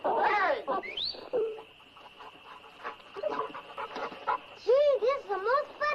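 Two friendly hound dogs pant and whimper up close in a short burst, high yips and rising whines mixed with breathy panting, while people talk over and around them.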